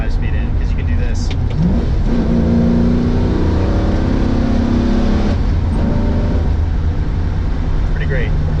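A 1960s Ford Mustang fitted with a 5-speed gearbox revs and pulls away, its loud, steady engine drone filling the whole stretch with rising tones through the gears.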